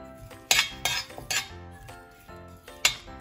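Curry leaves roast in a dry pan, heard as a few sharp metallic clinks and scrapes of a spoon against the pan over a low background hiss.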